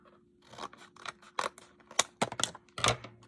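Scissors snip into a soft plastic fishing bait pack in a run of several quick, close, crisp cuts with short pauses between them.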